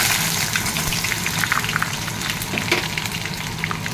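Onion frying in a pan, a steady dense sizzle with scattered crackles and pops, fairly loud and close, no voices.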